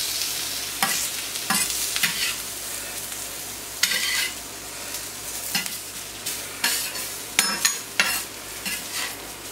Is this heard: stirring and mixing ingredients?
yes